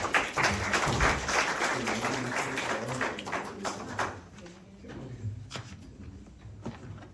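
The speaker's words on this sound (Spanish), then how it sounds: "Le damos la bienvenida. Un aplauso." An audience gives welcoming applause to a speaker at a lecture on the Battle of San Jacinto, dense clapping at first that thins out into scattered claps and taps as it dies away.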